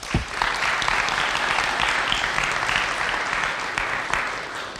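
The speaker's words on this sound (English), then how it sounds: "so we'll give them a round of applause." An audience claps for community network trainees at a training event: a dense, even round of applause that stays steady and close for the whole stretch, with no voices over it.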